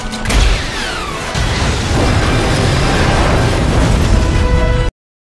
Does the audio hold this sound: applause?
no